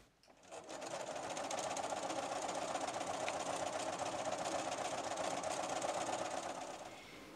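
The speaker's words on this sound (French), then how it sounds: "J'ai fait attention de se chevaucher les coutures et je couds les deux côtés pareils." A sewing machine stitches pinned patchwork fabric strips for a table runner, a steady close mechanical whir running unbroken for about seven seconds with no talking.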